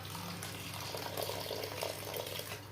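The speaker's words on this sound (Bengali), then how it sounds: "এতে কাঁচা চিড়াটা তো ফুলবে, চিড়াটা সিদ্ধ হবে, তার জন্য আমি একটু জল দিচ্ছি" A little water is poured over raw flattened rice and bottle gourd for a gourd payesh, a soft, continuous trickling splash at low volume, close by and without talk.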